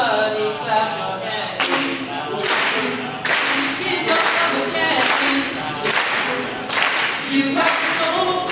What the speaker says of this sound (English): Everybody clap your hands.